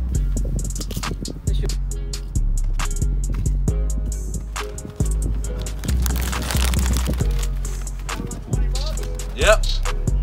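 Ghost pepper chips crunch in a series of loud, close bites and chews, with sharp cracks repeating irregularly.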